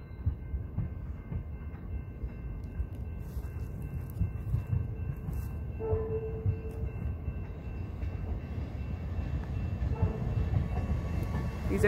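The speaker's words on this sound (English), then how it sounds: "Now the South Shore coming out. It's departing slowly." A four-car South Shore commuter train pulling out slowly, heard from trackside as a low, fairly quiet rolling rumble that gradually builds, with a brief faint tonal squeal partway through.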